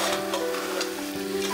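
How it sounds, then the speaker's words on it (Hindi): Masala and mutton sizzling in a pan while being stirred, with soft scraping and crackling at a steady, moderate level. "अच्छी तरह मैं इसको भून रही हूँ।"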